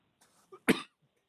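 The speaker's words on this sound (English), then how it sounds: "Buddy had to cough on that." A single sharp cough, nearby and fairly loud, with a faint catch of breath just before it and silence around.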